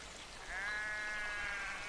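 A single sheep bleats in a paddock, a drawn-out, wavering call that is moderately close and rises above soft outdoor background noise.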